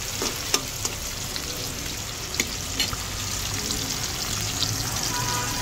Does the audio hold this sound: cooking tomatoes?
yes